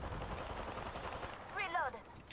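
Rapid bursts of gunfire in a shooter video game crackle steadily at moderate volume, with a voice briefly speaking over them near the end.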